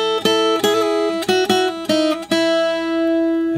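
Guitar playing the final lead lick from a song, a short phrase of quick picked notes that settles into a sustained ringing note, close and clear with no talking.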